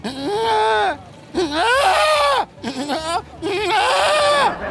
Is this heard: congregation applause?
no